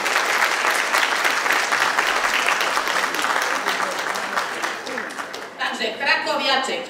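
Audience at a school harvest festival event in Sucha Górna applauds in a dense, sustained burst of clapping that slowly thins toward the end, where a voice begins speaking.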